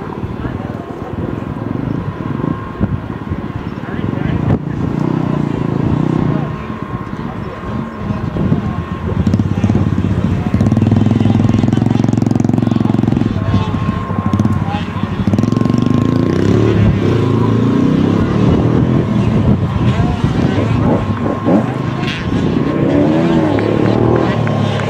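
85cc dirt bikes for riders aged 9 to 13 race around a motocross course in Portales, NM: high, buzzing two-stroke engines rise and fall at a distance, continuous and fairly loud beneath an announcer's running commentary.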